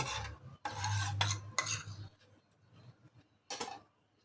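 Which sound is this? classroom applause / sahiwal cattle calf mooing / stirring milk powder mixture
stirring milk powder mixture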